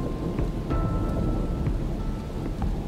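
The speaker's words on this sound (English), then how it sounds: "Until, that is, the rain just gets to be a bit too much." Heavy rain pours steadily through the Australian bush during a thunderstorm, a dense roar with a low rumble of thunder running beneath it and no voices.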